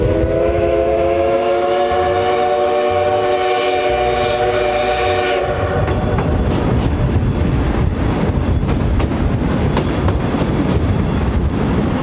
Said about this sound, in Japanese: 汽笛がすごいです。